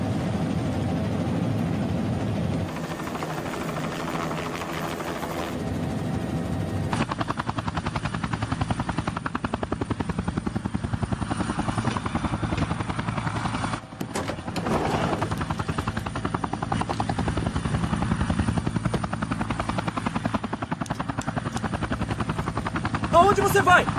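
A helicopter comes in to land, its heavy rotor and engine drone filling the scene loudly and continuously, with a voice speaking over the noise.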